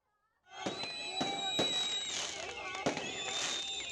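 Firecrackers pop and crackle in a rapid string at a street gathering where Palestinian flags are waved, with sharp bursts over a hissing, whistling background and faint crowd noise.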